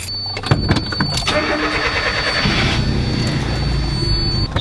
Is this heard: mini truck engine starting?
yes